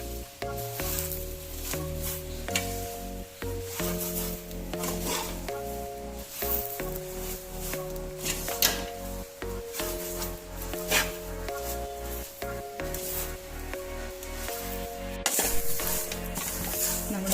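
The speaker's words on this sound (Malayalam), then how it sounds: "ഈ വേപ്പിലയും കൂടെ ഇതിൽ കിടന്ന് ഒന്ന് ഫ്രൈ ആയി വരണം" Grated coconut and curry leaves frying in a pan for curry leaf chutney powder, a steady soft sizzle running throughout beneath tonal background music.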